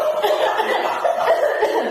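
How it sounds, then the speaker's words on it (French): A cough forced out during a beginner's vocal training exercise, a continuous breathy, voiced burst with laugh-like pulses filling the whole moment at moderate loudness, close to the listener. "Faut tousser. Tousser."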